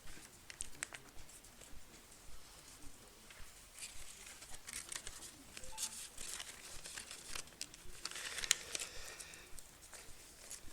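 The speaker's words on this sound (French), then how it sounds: "je vous invite à insérer les bulletins dans l'enveloppe marron." Ballot papers being slipped into brown envelopes during a municipal council vote, heard as soft, scattered paper rustling, crinkling and light tearing sounds from several people around a quiet room.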